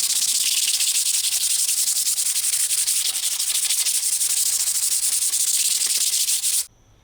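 A raw wood slab for an epoxy accent table being sanded with 60 grit sandpaper gives a loud, continuous, close rasping scrape that runs unbroken for several seconds, then stops abruptly; there is no talk.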